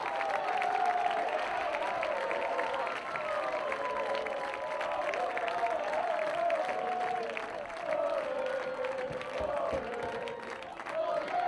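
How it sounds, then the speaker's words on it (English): A college soccer crowd at Turner Stadium cheers and applauds after a home goal, a sustained loud roar of voices and clapping that carries on for several seconds at a distance. "Maris eggs on the Turner Stadium crowd"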